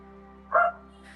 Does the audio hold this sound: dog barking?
yes